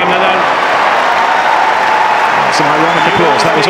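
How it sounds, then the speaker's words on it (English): A Wimbledon tennis crowd at the 2019 Nadal versus Kyrgios match gives dense, steady applause throughout, with a voice briefly audible toward the end. "Some ironic applause."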